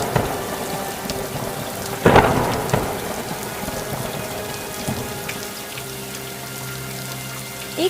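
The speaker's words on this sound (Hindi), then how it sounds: "एक हल्की बारिश होती है" Light rain patters steadily in a cartoon scene, with a rumbling thunderclap breaking through early on before the shower continues alone.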